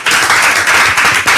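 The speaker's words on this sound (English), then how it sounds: "Now they will clap for me." An audience at a party podium event on a reality TV show claps steadily and loudly, a continuous dense patter of hands over a short stretch.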